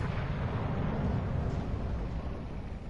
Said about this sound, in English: Firing all those guns. Tons of guns here.